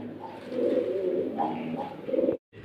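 Pigeons coo in soft, low, repeated rolling calls, close by and continuous before cutting off abruptly near the end, with faint background noise and no speech.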